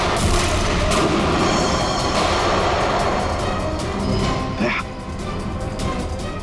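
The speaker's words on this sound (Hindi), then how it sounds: "वहां से चल रही है गोलियां।" Gunfire in a Hindi crime drama shootout, a dense, loud barrage of shots with background commotion and brief voices, with one sharper crack near the end standing out from the continuous noise.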